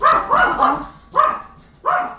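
A dog reacts to a fork squeaking on a plate with loud, close, agitated barks, one long run of yelps followed by two sharper separate bursts, no talking.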